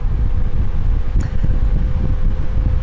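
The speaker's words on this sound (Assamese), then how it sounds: "এই অন, ইয়াত ফেন চলিল" A remote-controlled electric fan, a special oscillating model, runs at close range with a steady, dense whooshing hum of moving air. No one speaks.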